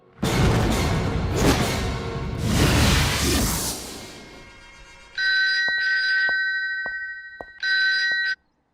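A telephone rings in two bright electronic bursts after a stretch of whooshing noise, with faint ticking clicks between the rings.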